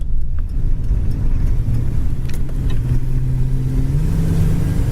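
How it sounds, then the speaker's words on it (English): A 1979 Lincoln accelerates hard as its automatic transmission kicks down, a loud, close engine roar that climbs steadily in pitch over road noise, heard alone without talk. "Transmission kick down works. We just punched it down, it downshifted perfectly."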